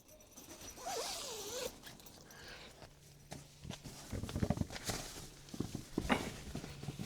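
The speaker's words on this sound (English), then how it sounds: "The zippers work nice." A zipper on a cot tent runs open in several quick pulls, close and fairly loud, with handling rustles and light thumps of fabric and frame between strokes.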